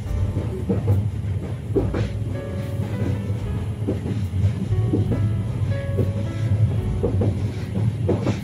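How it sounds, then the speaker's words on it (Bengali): Train running steadily on the line home from Sylhet, a loud continuous rumble with repeated rhythmic clickety-clack wheel beats close by, no voices. "ট্রেনের এই শব্দটা তো খুবই ভালো লাগে, তাই রেখে দিলাম"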